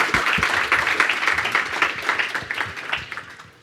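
An audience at a data quality talk applauds at the close of a session, a dense, steady wash of clapping that holds at moderate loudness for a few seconds.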